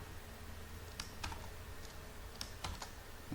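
Quiet, close clicks of someone typing input for a Python program on a computer keyboard, scattered keystrokes in small clusters over a low background hum.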